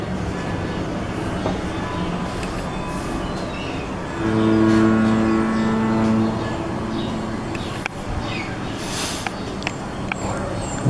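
A train rumbles steadily at Woodward Train Depot in Detroit, with a strong sustained tonal whine or horn-like drone swelling in the middle before fading back into the continuous rail noise.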